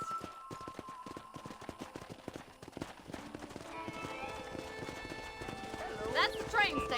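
Steady clip-clop of horse hooves trotting close by in the video game Red Dead Redemption, with a horse whinnying near the end and a busy town ambience of voices and music underneath.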